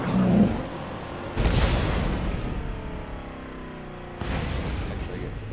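Grenade explosions in the Borderlands co-op shooter, two broad bursts a few seconds apart over a steady rumble of gunfire and game noise, with voices talking throughout.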